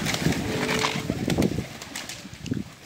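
Pigeons coo softly at close range, a few low, throaty calls rising and falling in short bursts, with some light rustling and shuffling around them.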